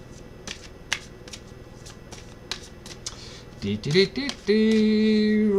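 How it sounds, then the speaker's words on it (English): A deck of tarot cards is shuffled in a string of quick, crisp riffling bursts, close and distinct, followed by a short clattering and a brief tonal hum near the end. "let's get them bad boys shuffled for you, Nadia"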